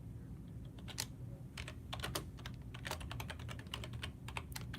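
Close, steady typing on a computer keyboard at a home streaming setup, brisk irregular key clicks in bursts over a faint background hum, with no voices.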